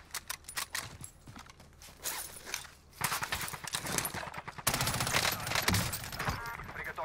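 Dense, rapid gunfire from a gun in Call of Duty Warzone crackles in repeated bursts, mixed with other busy game sounds and growing louder toward the end.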